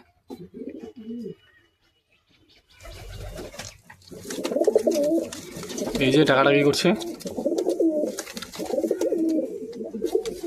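Competition flying pigeons coo repeatedly in low, throaty bursts, close and fairly loud, while someone talks over them through most of the stretch; a brief coo sounds alone before the talk begins.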